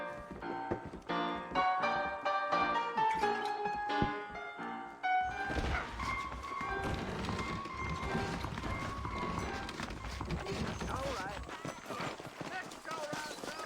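Horse hooves clip-clop in a Red Dead Redemption scene, the saddled horses trotting steadily under a busy, loud music bed and ambient game sound.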